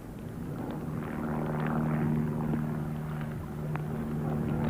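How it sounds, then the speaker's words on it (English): A helicopter passes over a riverside angling competition as a steady, low droning hum, fairly faint and distant. It holds constant under light ambient noise, with no speech. "Don't want that helicopter spooking it"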